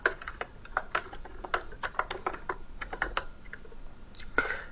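Quick, uneven keystrokes as someone types C++ code on a computer keyboard, the clicks close and fairly soft with brief pauses between bursts and no talking.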